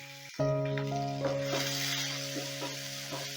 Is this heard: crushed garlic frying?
yes